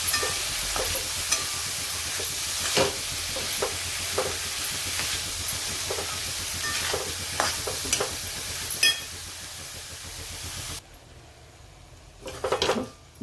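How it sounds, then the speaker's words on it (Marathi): Toor dal is stirred through frying masala in a pan, a continuous sizzle broken by repeated scraping spoon strokes and clinks, then the frying drops away near the end with a couple of final metal knocks. "आपण डाळीला या मसाल्यामध्ये मिक्स करून घेऊ."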